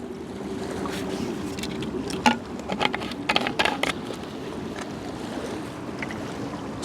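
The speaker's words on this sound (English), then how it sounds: "Some speedboats out there." Speedboats out on the Bristol Channel off Aust Beach near the Severn Bridge, heard as a steady distant motor drone over wind and surf, with a brief cluster of louder splashing knocks midway.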